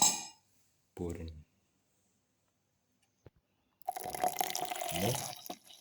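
About 150 ml of milk is poured into a blender jar for a smoothie. A liquid splash and pour comes near the end, after quiet gaps and a short earlier burst of sound.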